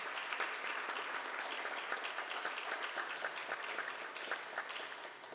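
An audience at a meeting applauds steadily, a dense wash of many hands clapping that holds at an even level throughout and fades slightly at the end.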